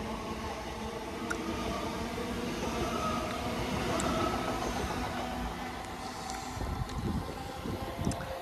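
An LNER Azuma train passes Welwyn North station, a sustained rumble and rushing roar mixed with wind buffeting the microphone, with no talking.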